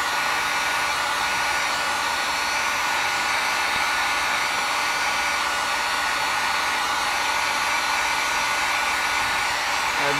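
A heat gun gently warming heat shrink during an oil leak repair on a Yamaha BW50 scooter, a steady, even airy hiss and whir that runs continuously and close throughout without any talk.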